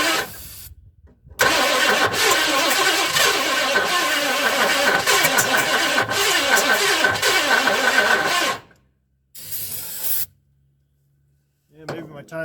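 A 1958 Edsel engine being cranked hard on the starter for several seconds, a loud rhythmic churning that stops, followed by two shorter cranking bursts separated by silence, with a voice briefly heard.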